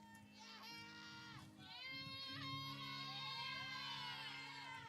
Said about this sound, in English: They're cheering for Hannah as she taps the plate and gets the bat ready.